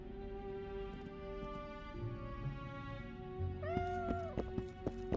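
A cat meows in The Witcher 2, one clear rising-and-falling mew heard over steady game background tones, with soft ambient taps and clicks around it.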